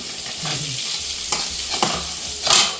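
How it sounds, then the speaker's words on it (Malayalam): Dried fish frying in a home kitchen pan, a soft continuous sizzle broken by several scraping stirs, close by and fairly quiet, with no talk. "മമ്മി ഇവിടെ ഉണക്കമീൻ വറുത്തുകൊണ്ടിരിക്കുകയാണ്"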